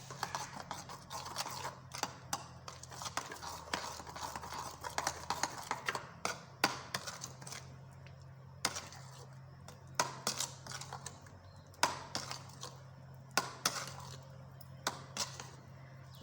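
Garlic paste stirred together with oil, giving soft, close, irregular scraping and light tapping strokes that repeat unevenly for a quarter of a minute with no talking.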